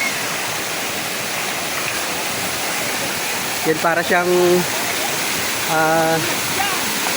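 Clear mountain spring water from Tangadan flows steadily at a natural bathing spot, a constant rushing wash like a small waterfall, with a voice talking briefly over it in the second half.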